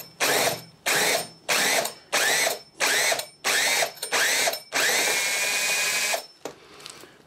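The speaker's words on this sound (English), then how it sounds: "you need to make sure the drill's in reverse" A power drill running in reverse with a screw extractor bit whirs in seven short bursts followed by one longer run, each burst starting abruptly and cutting off sharply, close and loud.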